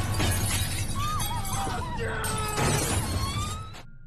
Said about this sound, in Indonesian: memecahkan kaca demi kaca yang membuat suasananya semakin mencekam